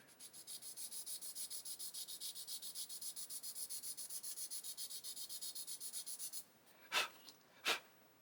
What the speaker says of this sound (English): Maybe if I sand away some of this bulkhead here.